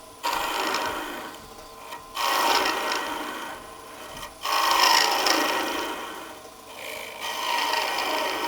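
Wood gouge carving the inside curve of a wooden rice bowl, rasping scrapes in repeated strokes of about two seconds each, close and fairly loud, with brief pauses between passes and no talk.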